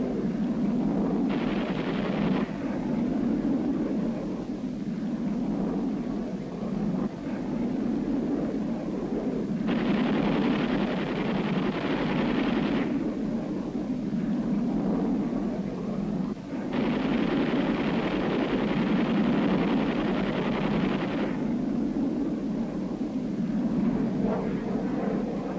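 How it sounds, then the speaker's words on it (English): Jet aircraft over wartime Korea in an old newsreel: a continuous low rumbling roar with repeated surging bursts of hiss swelling and fading every several seconds, muffled and distant-sounding, without any voices. "Mission completed, the jets peel off and head for home"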